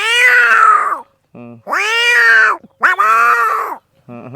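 A voice imitates a cat, giving three long, drawn-out meows with short yowls between them, loud and close.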